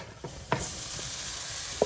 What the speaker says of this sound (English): Oh, you hear that sizzle?